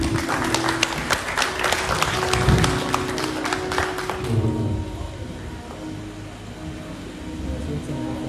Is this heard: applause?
yes